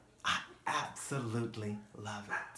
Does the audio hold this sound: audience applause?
no